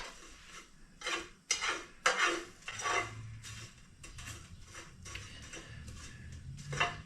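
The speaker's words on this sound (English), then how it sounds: "Just keep them moving in the pan." Dried ancho chillies are stirred in a hot pan, with a steady run of metallic scrapes and clinks from a utensil against the pan, close and fairly quiet, with no talking.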